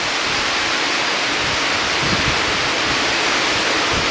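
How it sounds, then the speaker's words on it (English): Wind blows outdoors as a steady, loud broadband rush that fills the whole span without pause, like a constant roar against the microphone, with no talking. "Listen to that wind."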